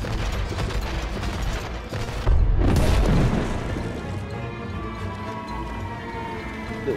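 Ship cannons fire in the video game It Takes Two, with heavy booms, a louder blast near the middle, and mechanical clatter and rumble running continuously throughout.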